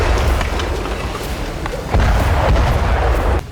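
Building demolition blast in Gaza: a loud, continuous low rumble with a heavier surge near the middle, sustained and booming before easing off at the end.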